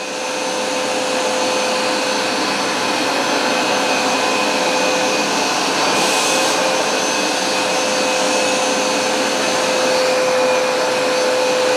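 A Hoover SmartWash carpet cleaner runs with Bissell Pro Max Deep Clean Solution, a loud, steady motor whine and airy suction roar that holds unbroken and close for the whole stretch, with no talking.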